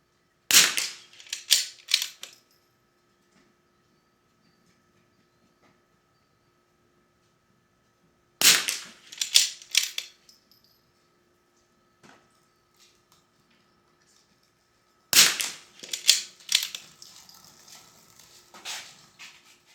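Three sharp, loud Bergara B14R rifle shots spaced several seconds apart, each a crisp crack followed by short echoing clatter and rumble.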